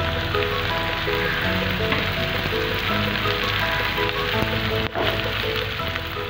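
Mushrooms stir-fry in butter and garlic with a loud, continuous sizzle and crackle, steady throughout with one brief scrape of stirring near the end.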